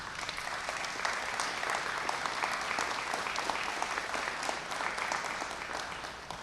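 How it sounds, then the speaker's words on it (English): Applause for Rita, a widow, at a mayor's press event on a transportation levy: steady clapping from a gathered audience, fairly faint and continuous throughout with no talking over it. "Give Rita a round of applause, please."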